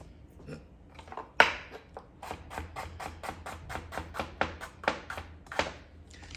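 Knife slicing carrots on the bias against a cutting board, a quick series of crisp, evenly spaced chops close by, with no talking.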